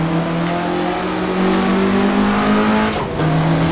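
A 1967 Russell Alexis Mk.14 Formula Ford race car in Assetto Corsa, its engine droning loud and close as it pulls, pitch rising steadily with a brief dip near the end for a gear change, no talking.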